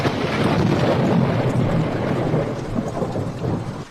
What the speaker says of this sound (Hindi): खिड़की के पार बिजली कड़की